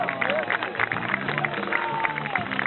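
Audience clapping and cheering for a circus performer at a Club Med show in Trancoso, dense applause under a lively crowd babble with voices speaking over it.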